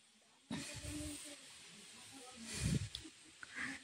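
Water poured into a hot pan of mung dal tadka with cinnamon and cloves, a sudden loud hiss and sizzle of steam that swells again midway, close and alone.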